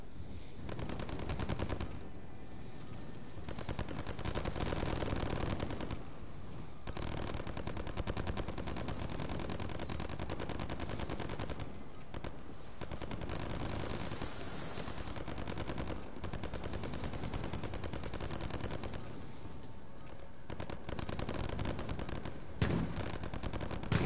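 Automatic weapons fire continuously in a modern shooter video game during a fire-rate test, with dense, rapid bursts of gunfire broken by brief pauses.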